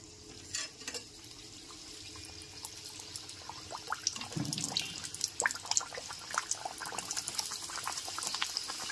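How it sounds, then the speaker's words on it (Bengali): Green pea kachori lowered one by one into plenty of hot white oil in a kadai, a soft bubbling sizzle that swells and grows busier after a few seconds, with small clinks and crackles, fairly quiet and close. "এইবার একে একে কচুরিগুলোকে দিয়ে দিচ্ছি।"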